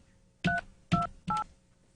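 Touch-tone telephone keypad dialing: three distinct dual-tone key beeps, evenly spaced and fairly loud, with no talking over them.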